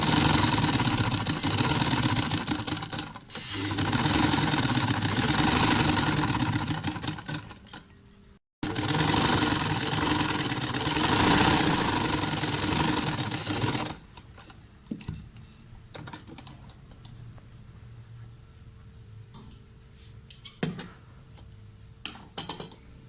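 A sewing machine stitching the joined front and back neckline of a shirt, loud steady runs of fast mechanical whirring broken by brief stops, then quieter scattered clicks and handling of fabric toward the end.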